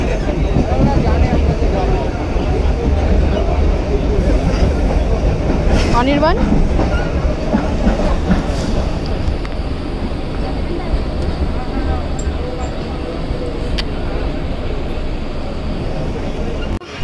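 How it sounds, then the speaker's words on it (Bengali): A local train rumbles past at close range with loud, continuous clattering of wheels and a brief squeal, while voices talk over the noise. "ট্রেন চলে গেল"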